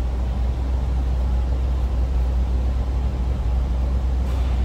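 A numbers-matching 350 V8 in a 1975 Chevrolet Corvette coupe idles steadily with stock exhaust, a continuous low rumble heard close and alone for the whole stretch.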